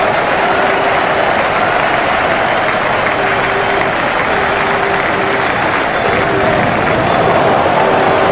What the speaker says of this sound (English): He deserves the applaud from the crowd today.